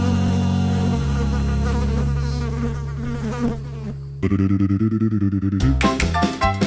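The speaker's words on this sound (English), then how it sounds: "pesky flies buzzing round the house at night" Sound effect of flies buzzing in an old radio drama advertisement, loud close insect whining that wavers in pitch, shifting partway through into a busier, more clipped buzzing of several flies.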